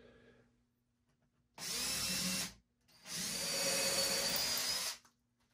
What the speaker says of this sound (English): That means I can drill for the dowels.